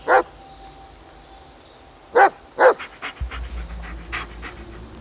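A dog in the Blair Witch video game gives a few sharp barks, two close together, then pants in quick rhythmic breaths under a low rumbling background.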